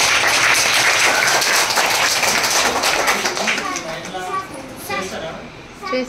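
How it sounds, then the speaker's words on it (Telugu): Children clap together in a classroom, a rapid, steady patter that gradually thins out, with voices talking over it. "చప్పట్లు కొట్టండి"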